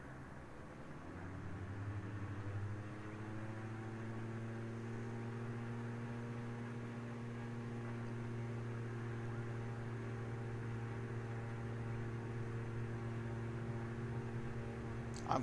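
Airliner engines in Microsoft Flight Simulator spool up for takeoff, a steady droning hum that rises in pitch over the first few seconds and then holds level and even, alone with no talk.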